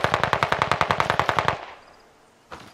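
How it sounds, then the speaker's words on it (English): An MG42 light machine gun in Call of Duty: Vanguard fires one rapid, evenly spaced burst of about fifteen loud shots, then stops; a single faint shot follows after a short quiet pause. "we're using the MG, the Vanguard light machine gun"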